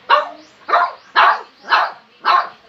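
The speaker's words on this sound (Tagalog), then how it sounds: "Pagdating namin, tahol pa rin." A Shih Tzu barks five times in an even rhythm, each bark sharp and close, with brief silences between them and no talk.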